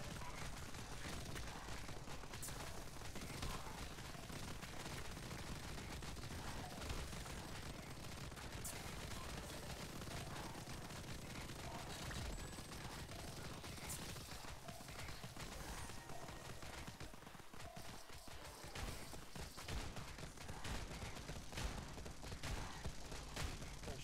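Shotgun fire during a chaotic Tower Unite match, rapid overlapping gunshot bursts crackling continuously throughout under a dense layer of game noise and other weapons, loud and busy with no pauses.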